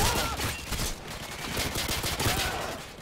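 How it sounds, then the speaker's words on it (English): Rapid overlapping gunfire from a Modern Warfare 2 match on the Rust map, dense continuous shots and bursts filling the whole stretch with no pause. "Someone's shooting me right here."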